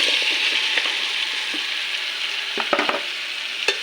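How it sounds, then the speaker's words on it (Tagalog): Tomatoes sizzle and fry in a pan with a steady, fairly loud crackle, while a utensil stirs them in several scraping clacks near the end. "Lutuin muna itong kamatis."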